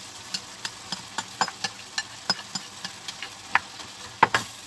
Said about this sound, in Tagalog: Haluin natin ang haluin hanggang sa maluto yung ating mga vegetable.